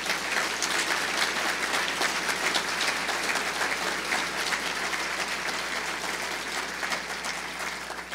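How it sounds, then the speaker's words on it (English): Sustained audience applause for Senator Mark Warner at an energy summit in Virginia, a dense wash of many hands clapping steadily throughout and fading only slightly toward the end. "as a fellow Virginian, ask for a round of applause for our Senator, Mark Warner."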